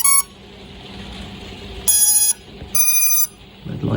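An FPV drone, a RushFPV F7 Blade Analog Mini, beeps as its battery is plugged in, giving three loud, high electronic tones, the last two longer, separated by quieter stretches with handling noise at the end.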